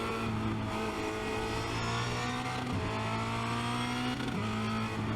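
A Formula Renault 2.0 race car at Spa-Francorchamps, its engine droning at a steady high pitch from onboard, with brief dips as the throttle is eased, loud and continuous with no talk.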